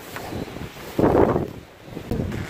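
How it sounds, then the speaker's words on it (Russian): Strong storm wind by the sea buffets the microphone in loud, irregular gusts that swell and drop, with a rough rumbling roar and no talk. "Вот какой у нас сегодня тут ураган идет"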